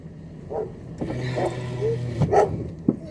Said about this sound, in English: So we have a dog right next to us.